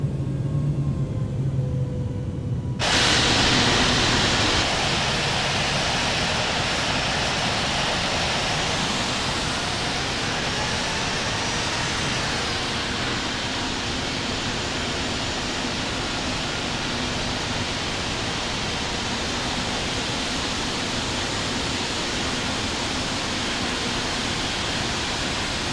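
Boeing 777 jet engines spooling up for takeoff in the Infinite Flight simulator, a sudden surge into a loud, continuous broadband roar that holds steady and dense throughout.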